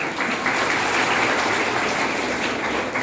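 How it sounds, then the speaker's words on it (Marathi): An audience claps through a motivational talk on stress at a college hall, producing sustained, even, full-bodied applause with no break across its whole length. "तर स्वतःसाठी टाळ्या वाजवा आपण पहिला"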